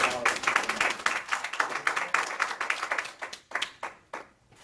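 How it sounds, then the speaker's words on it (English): Audience applause at a Toastmasters club meeting, a dense burst of clapping from a room of members that thins into scattered claps and fades out by the end. "Everybody, please give a big round of applause."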